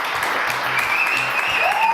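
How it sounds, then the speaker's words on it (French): A studio audience on a French TV show applauds in a steady, dense roar of clapping with cheers and whistles riding on top, sustained and fairly loud throughout. "Lorraine et Philippe du Field, que je vous demande d'applaudir très très fort"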